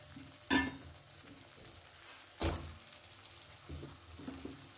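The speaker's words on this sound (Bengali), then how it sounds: "এখন আমি এর মধ্যে দিয়ে দেব ভেজে রাখা পুঁটি মাছ" Fried puti fish tipped into hot masala in a pan, two sharp clattering splashes of sizzle over a low steady fry, then softer stirring scrapes toward the end.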